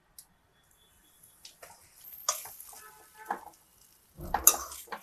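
Grated coconut tipped into a pan and stirred, heard as a few quiet, scattered scrapes and clatters with a faint sizzle building in short bursts toward the end.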